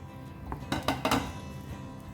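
Fried squid is added to a creamy butter garlic sauce in a pan, with a few quick metal utensil clinks and knocks against the pan in a short burst, fairly quiet and without speech.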